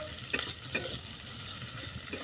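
Onions frying in oil until browned for a bathua greens stem chorchori, a soft steady sizzle broken by a few sharp stirring scrapes.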